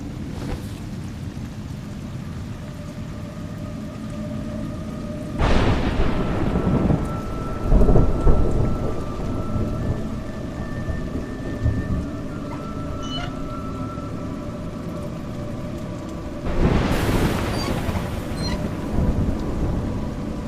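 Steady rainfall hisses throughout a scene in the video game A Juggler's Tale, with two loud rumbling thunderclaps breaking in, one near the middle and another toward the end, over a faint sustained tonal hum.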